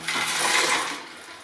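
Water with ice in it is poured into a container in one brief, rushing gush that splashes loudly and then tapers off over about a second and a half.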